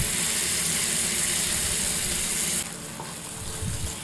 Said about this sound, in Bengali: এরপর একটু ভাজা করে ওই বেক বিনটা দিয়ে দিব।